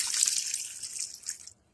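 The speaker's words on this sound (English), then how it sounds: "Let's add a little bit of cold water." Cold water running from a small faucet into a sink while washing dishes in a van, a steady hissing splash for about a second and a half that cuts off abruptly when shut off.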